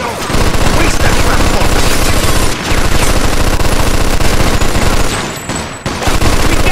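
Sustained machine gun fire in the video game Mafia II, a dense rapid burst of loud shots rattling almost continuously, with a short pause partway through before the firing resumes.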